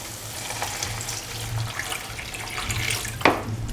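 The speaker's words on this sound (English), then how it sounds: "Pour in 200 ml of water." Water poured into a simmering bean and tomato mixture in a pot, a steady close splash running for several seconds with a sharper burst near the end, over a constant low hum.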